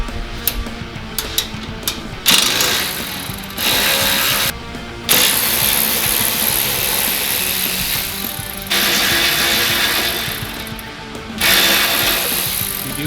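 A ratchet tightening bolts during a headlight install on an RD1 Honda CR-V, heard up close as loud, continuous rapid clicking in several bursts separated by short pauses.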